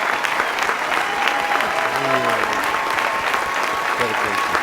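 Harvard Commencement 2013 crowd gives a standing ovation, a dense, steady wash of applause and cheering from a large outdoor audience that continues throughout, with a voice faintly audible underneath.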